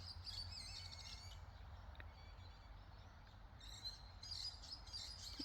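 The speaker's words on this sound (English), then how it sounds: "Oh, they're little musk lorikeets." Musk lorikeets chirp and squawk in a cemetery, a steady flurry of high, thin tweets through the whole stretch over a low, constant background rumble.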